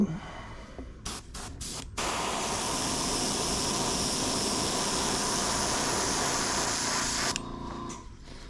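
Blue flash paint sprays onto a 110 jerkbait lure: a few short hisses, then a long continuous close airbrush-like spray for about five seconds before it cuts off.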